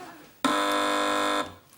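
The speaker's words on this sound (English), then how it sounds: "Just to break the silence, I thought I'd press the buzzer." A game show buzzer sounds once, a loud, flat electronic tone lasting about a second, cutting in sharply and stopping abruptly against a quiet studio.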